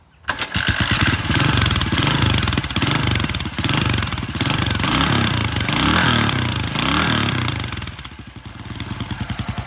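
A 1977 Yamaha XT500 single-cylinder motorcycle is kick-started: after a brief kick the engine catches and runs loud and close, revving unevenly with a throbbing thump, then settles toward a lumpy idle.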